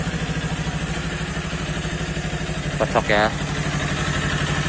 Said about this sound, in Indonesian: kita cek mesinnya harus, kalau bisa sih sekali starter langsung nyala tuh